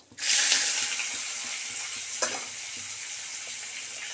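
Chopped onion hits a hot frying pan and bursts into a loud, steady sizzle that holds on with a bright hiss, with a few small clinks from the pan in the background.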